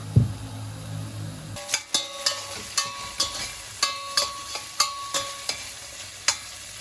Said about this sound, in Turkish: Şimdi etlerimiz kavrulsun.